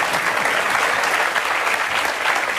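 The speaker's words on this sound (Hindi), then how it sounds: "ताली बजा दीजिए आप।" A seated audience at a talk about phone hacking and fraud breaks into sustained applause, many hands clapping in a thick, steady wash for a couple of seconds, with no voices over it.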